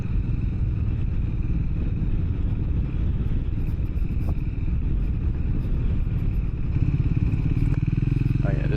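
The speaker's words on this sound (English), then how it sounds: "Sometimes if you listen, you can hear the steepness measured by the engine braking I'm doing." Continuous low motorcycle engine rumble with a steady drone of engine braking on the steepest descent of Utah's Onion Creek Trail, some clattering over rough ground, loud and close throughout.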